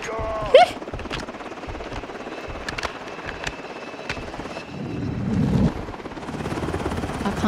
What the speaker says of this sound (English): Get that helicopter out of here.